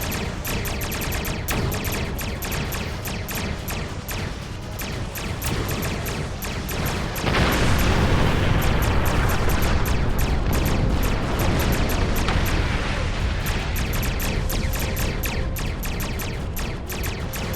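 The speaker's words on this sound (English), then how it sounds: "Ship explosions cause damage." Ship explosions in the space combat game Star Trek Online crackle and boom continuously, a loud, dense barrage of rapid impacts with a heavier rumbling blast swelling midway.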